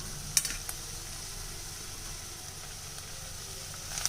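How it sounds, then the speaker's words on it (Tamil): Potatoes and capsicum sautéing in a pan for white pulao give off a soft, steady sizzle. A couple of faint clicks of stirring sound near the start, and the whole passage stays quiet and close, with no talking. "இப்போது உருளைக்கிழங்கு சேர்த்து ஒரு 2 நிமிஷம் இந்த மாதிரி வதக்கிக்கங்க."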